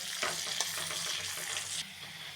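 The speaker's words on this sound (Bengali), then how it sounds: "এখানে পেঁয়াজ ভাজা হয়ে গেছে" Onions sizzle and crackle steadily in hot oil, with a few stirring scrapes, close and fairly soft, then the sizzle quiets near the end.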